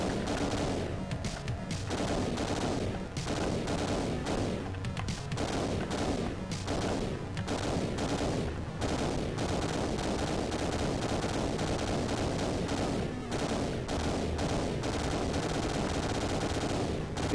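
Rapid, relentless gunfire from the Terminator 2 Arcade game on the Mega Drive, dense crackling bursts repeating over and over with scattered explosion thuds and no pauses.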